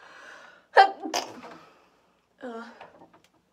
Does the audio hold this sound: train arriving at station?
no